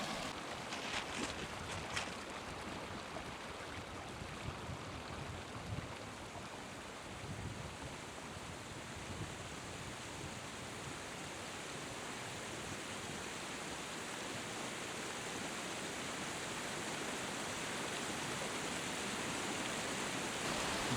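A river rushing past near a small waterfall in snowy Norway, a steady broadband roar of flowing water that holds constant throughout, moderately distant and with no voices.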